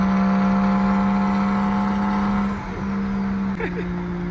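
Straight-piped BMW 335is with a big single turbo, heard from inside while driving, giving a steady loud engine drone with a strong low hum, a brief dip near the end and faint talk underneath.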